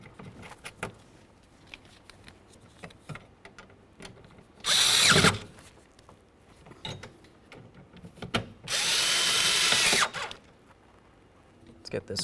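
A power tool snugs up the window regulator mounting bolts in the door of a 1998-2011 Ford Ranger, running in two loud whirring bursts of one to two seconds amid quieter clicks and handling noise, with someone talking.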